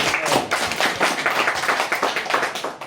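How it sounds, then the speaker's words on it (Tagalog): A congregation claps in a brisk, regular rhythm, many hands striking together in quick repeated beats that carry on evenly and close at hand. "Pumalakpak na ang mga nagmamahal."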